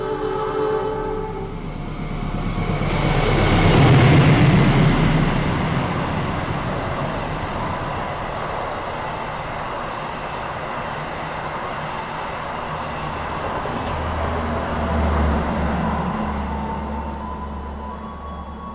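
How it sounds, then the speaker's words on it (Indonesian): The Gunung Jati passenger train rolls into Jatibarang station on track 3 with a long rumbling approach, a horn sounding early, then steady rail noise that swells again near the end. "Ini kereta api Gunung Jati bakal masuk ya di jalur 3."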